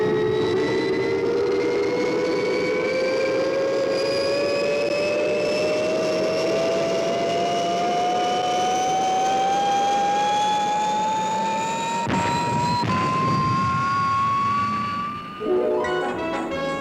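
Fireball XL5, a TV puppet-series spaceship, lifting off with a loud, continuous roaring rocket engine and a whine that climbs steadily in pitch, ending in a brief burst of noise.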